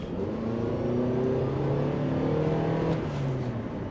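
A 2026 Toyota Prius XSE plug-in hybrid accelerating hard in sport mode, its engine rising in a steady drone with climbing tones, heard from inside the cabin over road noise.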